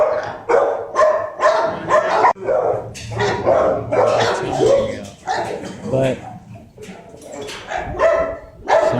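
Several dogs bark and yip repeatedly at an animal shelter, loud and close, with whimpers between the barks and a person talking over the din.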